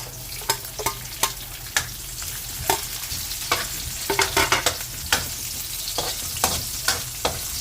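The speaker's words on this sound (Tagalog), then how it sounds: "Gigisa na tayo ng bawang." Garlic and onion sautéing in a pan for beef menudo, an even sizzle broken by frequent sharp clinks and scrapes of a spatula stirring against the metal.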